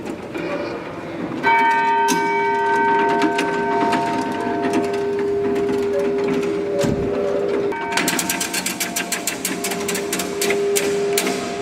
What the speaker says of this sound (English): The pawl and ratchet's very clunky, isn't it? It's really loud